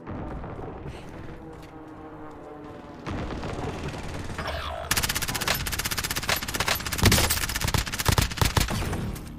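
Gunfire in the video game Call of Duty Warzone: a steady background rumble gives way to dense, loud automatic bursts and heavy impacts that grow more intense toward the end.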